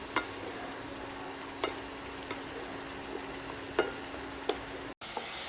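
Chili, coriander and cumin powder sizzle steadily as they fry in a pan, with a few sharp scrapes of stirring every second or so and a brief break near the end.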